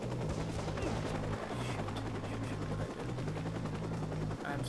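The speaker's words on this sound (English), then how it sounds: "Helicopter." A helicopter in the video game Watch Dogs drones loudly and steadily throughout, its rotor thrum mixed with bursts of gunfire and combat noise.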